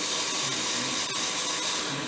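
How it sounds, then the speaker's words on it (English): A turned wooden ornament is sanded on a lathe, giving a steady, close abrasive hiss and whir that runs unbroken throughout with no talk. "Sand it."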